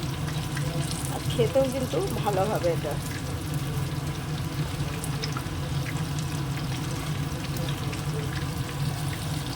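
Prawn and greens boras frying in oil, a steady bubbling sizzle running throughout with brief clinks near the start, while someone talks over it.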